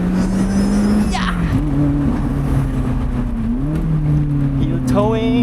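A Lotus Elise's engine pulls hard on a bumpy road, its steady drone rising and dipping with gear changes, loud and close from inside the car, with a voice talking over it.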